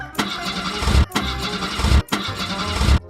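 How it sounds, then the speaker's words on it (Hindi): A car engine cranks three times in separate bursts, each whirring grind ending in a sputter without catching, loud and close with brief silences between attempts. "इस गाड़ी में क्या हुआ, स्टार्ट क्यों नहीं हो रही?"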